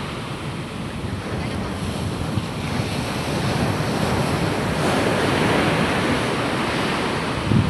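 Loud ocean waves surge and crash continuously against a small outboard boat crossing big waves, with heavy wind buffeting the microphone and no clear talk.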